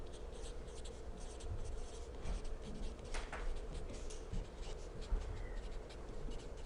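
Steady hand writing for several seconds, a pen scratching and scraping close by in a quiet room, with soft irregular strokes and no talk.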